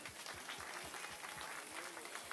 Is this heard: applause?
yes